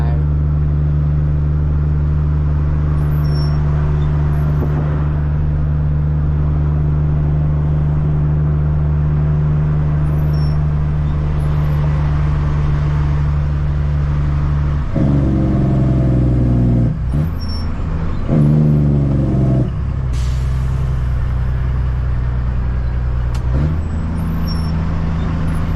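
A loud truck with a Cat C-15 engine idles and creeps through city traffic, a deep steady rumbling drone with a few bursts of heavier revving and clatter, and someone talks over it.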